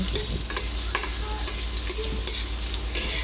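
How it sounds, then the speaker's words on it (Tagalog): Onion and garlic sizzle steadily in hot oil in a cooking pot for chicken sotanghon soup, with occasional stirring scrapes and clinks throughout, no talking. "Igisa po natin ng sibuyas at bawang."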